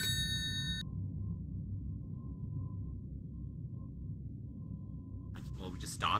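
A phone rings in a VRChat horror map game, a brief electronic tone at the start followed by a low droning ambience, then a person speaks near the end.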